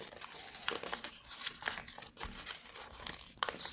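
Paper being folded and creased by hand while making a paper flasher, with close, quiet crinkles and scraping creases coming in irregular bursts throughout.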